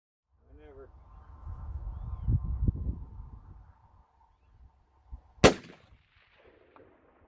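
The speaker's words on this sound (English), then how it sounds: "I'll actually show you a video doing that in the field, my very first time shooting rock chucks off a tripod" Rifle fire while shooting rock chucks off a tripod in the field: one sharp, loud shot stands alone near the end, preceded by a fainter crack, with a person talking and a lingering tone underneath.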